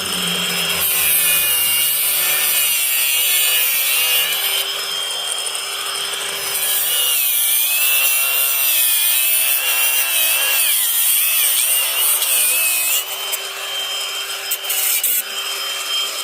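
Cutting off a blown hydraulic line on a backhoe: a loud, close, continuous grinding and rasping cut with wavering pitch, running steadily alone with a brief change in tone near the end.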